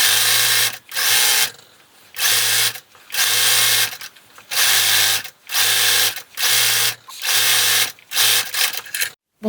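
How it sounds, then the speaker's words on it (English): A sewing machine runs a zigzag stitch along the waistband of stretch baby leggings in loud bursts of about a second each, with eight or so runs separated by short pauses. "make sure you sew with a zigzag stitch to keep this waistband stretchy"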